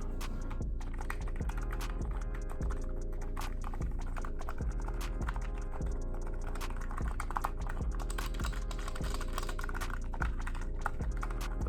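Typing on a Razer Huntsman Mini 60% gaming keyboard with red linear optical switches: a steady, dense stream of close keystroke clacks and thumps with a constant low background hum and no speech.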